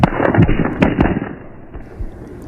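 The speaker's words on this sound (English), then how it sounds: "The gunfire came from more than one weapon." Gunfire from more than one weapon: rapid, overlapping sharp bangs and pops ring out in quick bursts, fading into a lingering rumble.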